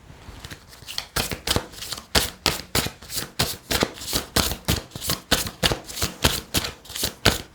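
Tarot cards are shuffled and handled in a fast, steady run of crisp riffling bursts, close and loud, repeating at an even rhythm with no talk over them.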